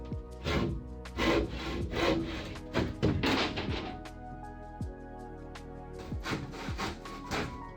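Plywood is hand-sawn during a solar-electric boat build, cutting away material for the living room: a series of rhythmic rasping saw strokes with occasional thunks, close and fairly loud, without talk.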